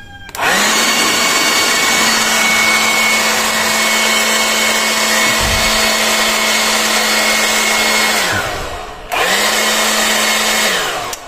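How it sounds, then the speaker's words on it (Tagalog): A small electric air blower whirs loudly and steadily with a high whine, briefly winds down near the end, then starts again. "Sunod naman po natin tong ating portable blower."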